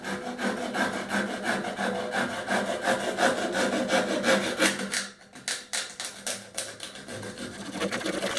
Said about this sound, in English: And I'm going to cut that section out.